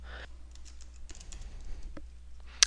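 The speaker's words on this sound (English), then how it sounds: "I'm now typing in Taryn Rogers and hitting enter to search for her record" Keys clatter on a computer keyboard as a name is typed, a quick quiet run of taps followed by a single sharper keystroke for enter.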